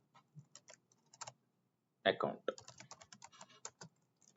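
Code being typed on a computer keyboard: scattered quiet key clicks, then a louder burst of rapid keystrokes, with someone speaking quietly underneath.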